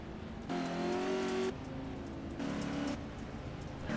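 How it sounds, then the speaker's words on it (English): Race car engines rev in the iRacing offroad game during a special event at Crandon, with two loud rising bursts of engine drone separated by a steadier idle hum. "engines revving there"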